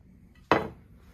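A single sharp clink of a decorative ceramic plate being set down or knocked, ringing briefly in a quiet room.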